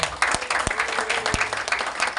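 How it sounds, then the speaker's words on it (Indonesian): Crowd applause at a Hindu children's religious school gathering, a dense burst of clapping with a few sharp individual claps standing out, loud and close throughout. "Tepuk tangan untuk beliau."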